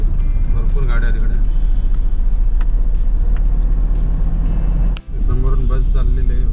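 Steady heavy road traffic on a busy road just beyond a tunnel exit on a route from Katra to Srinagar, a continuous loud rumble of many passing cars and larger vehicles, with a voice talking over it throughout.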